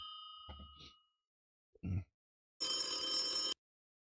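A telephone rings for an incoming call during a live stream: one loud, bright ringing burst of about a second, following a few brief spoken sounds and a short pause.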